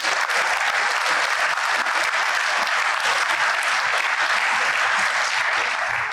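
Hall full of people at a law enforcement academy graduation applauds steadily, a broad, uniform roar of clapping that holds at full strength from start to finish.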